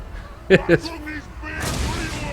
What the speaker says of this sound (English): The cannons are now starting to fire into the Chaos Warriors.